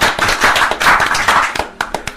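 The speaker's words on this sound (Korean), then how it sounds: "토론회지만 박수가 나와도 상관없습니다" Audience applause at a local community panel debate, a close, lively burst of many hands clapping that thins into a few scattered claps.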